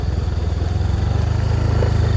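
A motorcycle engine hums steadily and close at night on a dark road near a reservoir, a continuous low throbbing drone with no talking.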